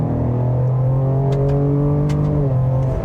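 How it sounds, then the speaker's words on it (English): A 2025 Ford Explorer ST sport SUV with a twin-turbo V6 accelerates hard from a standstill, its engine note climbing steadily and loudly up close before a brief shift near the end, with no talking. "And I have to say that twin turbo V6 definitely makes a nice sound to it."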